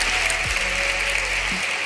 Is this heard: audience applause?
yes